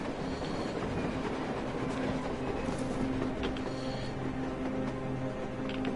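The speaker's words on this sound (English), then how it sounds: "A train! A damn train on the surface!" A train rolls across the surface in the video game Metro Exodus, giving a constant, heavy rumble with rhythmic wheel clatter that stays loud and steady throughout, with no voices.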